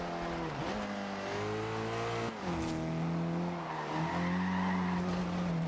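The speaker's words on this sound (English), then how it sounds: "See, this thing wants to drift. Nismo likes drifting." A Nissan Nismo car drifts in the racing game Forza Horizon 2, its engine revving and falling while tires squeal and skid continuously through the turns, loud and close with no talk.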